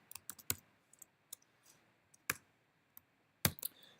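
A few sparse computer keyboard keystrokes, crisp clicks spaced irregularly with three sharper taps standing out, close and fairly quiet with no talking.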